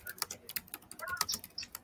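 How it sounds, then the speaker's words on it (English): Rapid clickety-clack typing on a computer keyboard: quiet, close keystrokes in an irregular, continuous stream. "you keep making those clickety-clack sounds"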